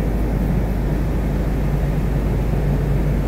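Cabin of a United Airlines long-haul business-class flight from New York to Zurich, a steady dense roar of engine and airflow noise, loud and unbroken, with no talking.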